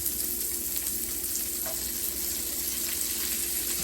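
Carrots sizzle in a hot pan of Cajun-Asian stir fry, a loud, continuous close-up hiss and crackle with faint stirring, steady throughout and without voices.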